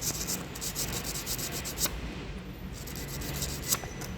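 Steady, close rubbing and scraping as a spark plug electrode is sanded and polished, a continuous gritty abrasion with slight swells in intensity and no voices.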